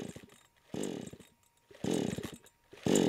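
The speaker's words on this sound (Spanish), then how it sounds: "La motosierra tampoco funciona." A failing chainsaw engine near Chernobyl sputters in three short bursts, each cutting out after about a second, separated by quiet gaps.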